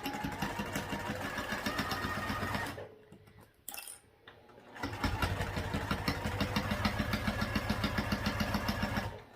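A sewing machine stitches a half-inch seam along the fleece-lined gusset of a crossbody bag, running in steady rapid bursts, pausing briefly in the middle, then resuming at full speed, close and loud.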